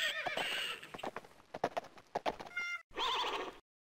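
A horse in the Windows 3.1 game Dragon in a Wagon neighs and whinnies amid quick clip-clop hoof beats, with a short break before a final whinny; a synthesized game sound, fairly close and clear with no talk.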